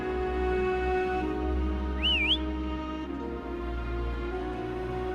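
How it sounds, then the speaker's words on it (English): Short rising-and-falling whistle in the Wuthering Waves video game, one brief melodic phrase over a steady game soundtrack and ambience. "Try whistling."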